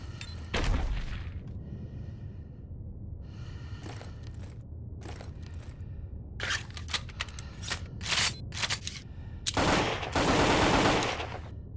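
A semi-automatic gun in the zombie survival game Zed Zone fired rapidly by repeated clicking, irregular bursts of sharp, loud shots separated by short pauses, ending in a dense flurry.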